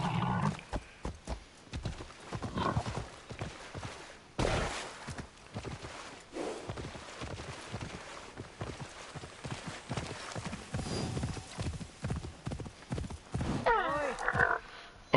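A horse gallops with rhythmic clip-clop hoofbeats in the Assassin's Creed Shadows video game, steady and close for most of the stretch, with a neigh near the end and game sounds mixed in.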